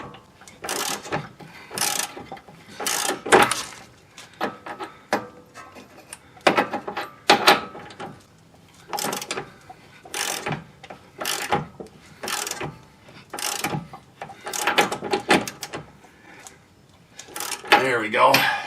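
A ratchet tightens a toe link bolt on a 2011 Ford Edge in repeated bursts of close, clicking strokes separated by short pauses, with someone talking between them.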